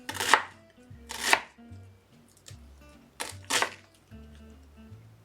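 A knife chops through an onion on a board, giving a few sharp, close cuts spaced about a second apart, with faint background music between them.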